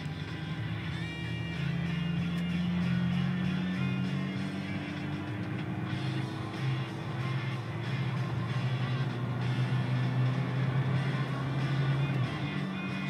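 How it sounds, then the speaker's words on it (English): A 2003 Chevrolet S10 pickup's engine drones loud and steady, its pitch climbing as it accelerates, dropping at a gear shift, then rising again through the next gear. "I'm gonna pull right out here, give it some gas, show you how it shifts, how it runs, how it drives"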